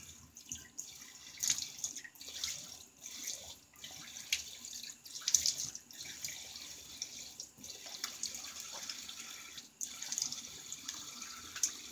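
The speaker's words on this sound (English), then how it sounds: "Water's still running a little cold." Tap water runs steadily into a bathroom sink before a wet shave, a soft continuous hiss with faint splashes and drips that rises and falls slightly over twelve seconds, with no talking.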